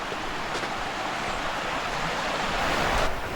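Creek water flowing through a nature preserve near Lancaster, Pennsylvania, recently swollen by flooding, makes a steady broadband rush that continues unbroken and fairly loud, with no voices.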